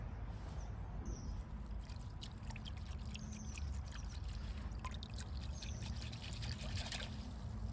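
Water trickling and splashing while washing out soil from the roots of a repotted twinberry honeysuckle, a steady faint dribble with small splashes over a low constant rumble, no talking.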